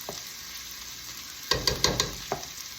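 Chicken frying with pounded curry paste, a low steady sizzle that breaks into several sharp scraping stirs and spatters in quick succession, then one more stir near the end, with no talking.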